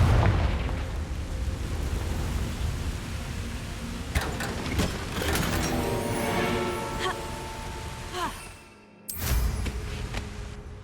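In the video game Hogwarts Legacy, a Confringo blasting spell goes off, a booming explosion burst within a dense, continuous wash of magical effects and rumble. A brief drop to near silence is followed by a fresh blast.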